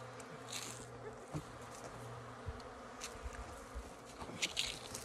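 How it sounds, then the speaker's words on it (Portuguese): Bees buzz in a close, busy hum around honey being taken from a termite mound, with scattered soft clicks and handling noises. "Na presença das abelhas. Muito bom."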